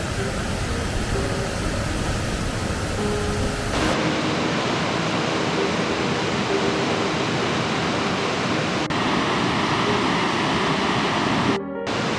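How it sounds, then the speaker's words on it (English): Nugget Falls, a waterfall near a glacier in Juneau, Alaska, gives a steady, loud, broadband roar of rushing water that continues without pause across several cuts. "The sound of roaring water attracts people."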